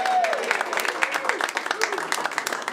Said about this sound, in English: Let's give a round of applause to Claude for Georgia Sports Hall of Fame.